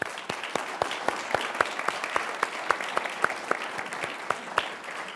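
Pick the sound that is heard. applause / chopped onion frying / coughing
applause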